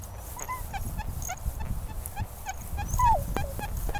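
An XP Deus 2 metal detector gives short, faint warbling target tones over rustling ground noise in a UK field, with a brief rising tone near the end.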